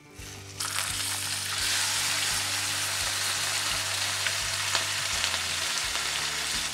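A large tilapia fish coated thickly in rava fries on a flat pan with a bright, steady crackling sizzle that swells after a soft start and then holds with a constant low hum beneath it.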